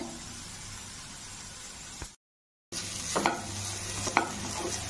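Grated carrot with turmeric and salt is stirred and fried in a pan, giving a steady sizzling hiss with a few sharper scraping strokes of the spoon near the end and a brief silent gap partway through.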